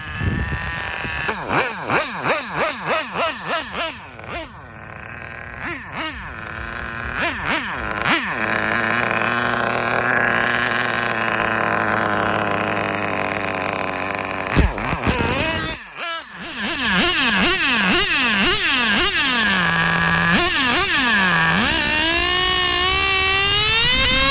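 A Kyosho V-One RR nitro RC car with an OS 12TR engine revs in sharp, rising and falling bursts, then holds a loud, steady high-pitched whine close by, blipping again toward the end.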